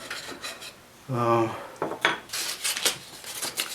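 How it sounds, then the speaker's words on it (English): A carved wooden log lunchbox lid is sanded by hand to knock down rough edges, giving short rasping strokes in quick uneven bursts, close and fairly quiet, with one brief tonal sound partway through. "Just doing a little bit of sanding to knock down some of the rough edges"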